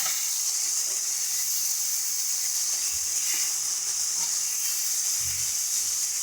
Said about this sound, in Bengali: এর মধ্যে দিয়ে দিচ্ছি সামান্য পরিমাণে একটু জল।